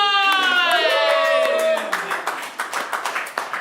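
Audience applause for a comedy act on a main stage show, a scattered burst of clapping that rises after a sustained tone and thins out toward the end, heard fairly close in a room.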